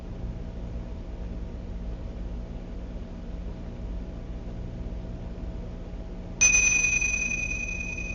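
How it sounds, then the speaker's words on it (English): A meditation bell rings once near the end, a clear sustained tone that slowly fades after a long stretch of quiet room hush during a silent meditation session. "end the silence with the sound of the bell again"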